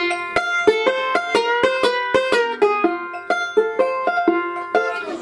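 A banjo lick of bright plucked notes with string bends on the third and second strings repeats in a steady rolling rhythm, played close and clear with no talking.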